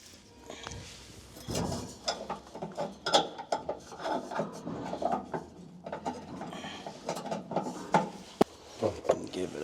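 A ratchet wrench tightening 15/16 lock nuts while installing a B&W gooseneck hitch in a 2025 GMC truck, with repeated close clicking strokes in short bursts and someone talking now and then.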